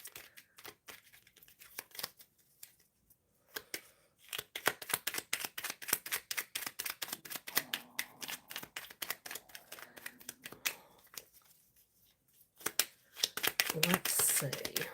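Tarot cards being shuffled by hand: rapid clicking, flicking card sounds in dense runs with short pauses, close and soft, mixed with faint speech.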